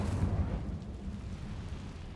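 The Incendio fire spell cast in Hogwarts Legacy bursts out as a whooshing roar and rumble that is loudest at the start, then fades into a steady, dull, low roar.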